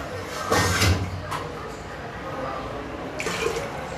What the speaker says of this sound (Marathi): ही दोन भांडं पाणी घालते आणि अजून एक भांडं पाणी घालणार